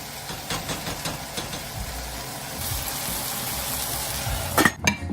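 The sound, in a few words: breadfruit frying in a pan, Jamaican style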